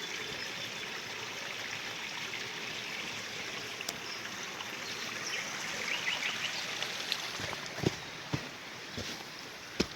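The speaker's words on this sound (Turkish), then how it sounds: "Su şurur şurur pırıl pırıl akıyor" Stream water flowing past gardens in Güzelyurt, Cappadocia: a steady outdoor gurgling and trickling wash, with occasional sharp clicks and a faint bird toward the end.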